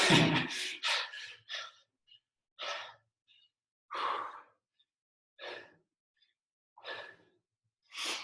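After a chair-and-floor cardio workout, a person breathes heavily with loud, close, rhythmic exhales and gasps. Each breath is separated by brief quiet gaps, with no talking.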